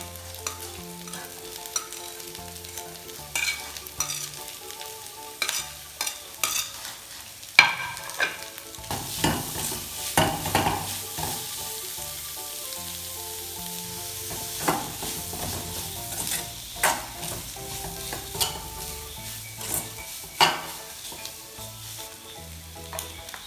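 Chicken filling for paratha sizzles and fries in a pan, with a spoon scraping and stirring through it in irregular clatters over a steady close frying hiss.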